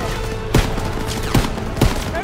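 Gunfire in Call of Duty WWII on the Hill 493 mission: three sharp, loud shots spaced unevenly over a constant dense battle din.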